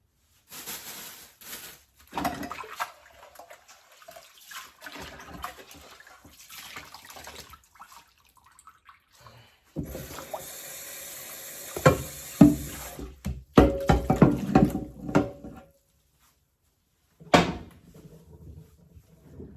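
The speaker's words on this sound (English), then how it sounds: "Wash these apples off and put them back in the same pan." Water running intermittently from a kitchen tap while apples are washed in a pan, with splashing bursts, clunks of handling and gaps of quiet, close by.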